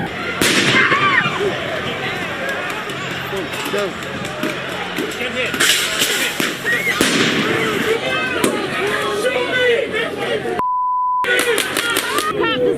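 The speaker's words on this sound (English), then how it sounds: "There are people throwing fireworks and who knows what else." Fireworks thrown in a street crackle and pop over and over amid a noisy crowd, with sharp bangs rising above constant shouting and talk, plus a short electronic tone near the end.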